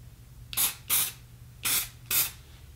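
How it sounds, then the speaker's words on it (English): Four short hissing bursts of aerosol hair styling spray, evenly spaced with brief pauses, close by over a faint low hum. "spray it and kind of like crunch it, move it around a bit."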